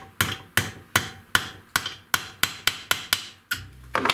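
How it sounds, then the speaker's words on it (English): A small ball peen hammer taps in a steady series of about ten sharp metallic strikes, evenly spaced and close up, with a slightly different knock near the end; no talking. "Every shop should have a ball peen hammer in it, a tiny one."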